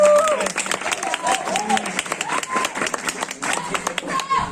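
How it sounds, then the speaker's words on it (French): At a New Year's Eve gathering, a small group claps for a woman named Mélissa: uneven, close hand claps in bursts with excited voices and shouts mixed through the clapping. "On peut applaudir à Mélissa et le basket."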